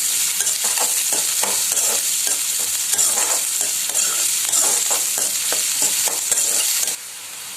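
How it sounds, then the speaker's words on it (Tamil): Beans and carrots sautéing in a hot pan for chicken fried rice, a dense, steady sizzle with rhythmic stirring scrapes throughout, close and loud, easing off slightly at the end. "பீன்ஸ் கேரட்டும் பாதி வதங்கட்டும், வதங்கினதும் கோஸ் சேர்த்துடலாம்."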